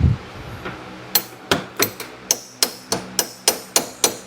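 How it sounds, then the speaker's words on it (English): A holder being hammered into an engine part during repair of a strange engine noise, roughly eleven sharp metallic strikes close by, coming in a steady, slightly uneven rhythm with no talking. "Then we're gonna hammer it in."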